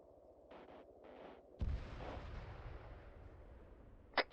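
A sudden deep boom from a vehicle exploding in the video game Arma 3 bursts in, followed by a long rumbling tail that slowly fades, with a few sharp cracks near the end.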